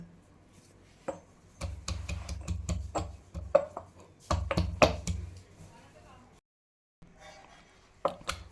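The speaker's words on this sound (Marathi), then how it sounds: "इथे आपण खलबत्ता घेतला आहे त्याच्यामध्ये आपल्याला ही लसूण हे बघा ठेचून घ्यायची आपल्याला" Garlic crushed in a stone mortar with a pestle for Rajasthani garlic chutney, repeated sharp pounding knocks in irregular clusters, close and clear, with a short pause partway through.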